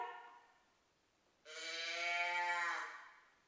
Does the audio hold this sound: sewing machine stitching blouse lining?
no